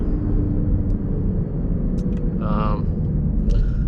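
Ford Mustang EcoBoost with a manual gearbox cruising along a road, its low steady engine and road rumble filling the cabin, with a brief higher whine partway through and people talking over it.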